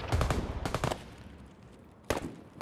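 Bursts of automatic gunfire in Escape from Tarkov crack out in rapid strings, two loud volleys early followed by a quieter gap and another sharp burst near the end, echoing across an outdoor industrial area.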